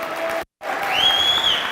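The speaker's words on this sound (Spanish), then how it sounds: "Ponles un fuerte aplauso a todos los que vienen por primera vez." A crowd at a training event applauds for first-time attendees, broken by a brief dropout, with a whistle rising above the clapping toward the end.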